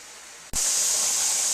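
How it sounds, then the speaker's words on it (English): A pressure cooker canning chili suddenly begins venting steam, a loud, steady hiss that bursts in after a brief quiet moment and keeps going without a break. "we have our pressure cooker on. We have steam venting."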